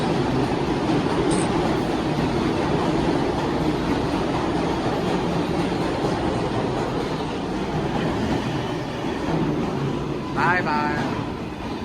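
A New York City subway 7 train rolls past in Manhattan with a steady, close rumbling roar and rattle that fills the whole stretch, and a voice speaks briefly near the end.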